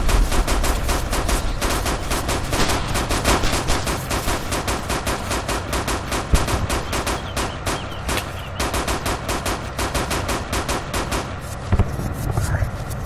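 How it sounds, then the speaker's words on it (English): Dense, nonstop automatic gunfire from an enemy in a cooperative World War-era shooter game, rapid bursts rattling loudly throughout with occasional heavier cracks, under player voices. "I went into the bushes, he's still shooting"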